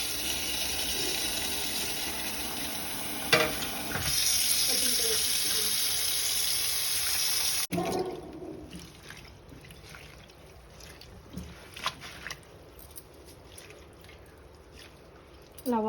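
Fenugreek leaves are washed by hand in a vessel of water, with splashing, sloshing and trickling that is louder at first and then quieter with intermittent drips and swishes; faint talk is heard.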